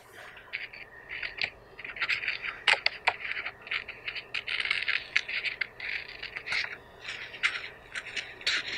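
Scissors or a craft knife cutting out a traced foreground shape in paper, giving a steady run of soft, close scraping and snipping strokes in irregular bursts, without talk.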